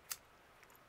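A single quick snip of scissors cutting crochet yarn, faint and close, one brief crisp click in an otherwise quiet moment.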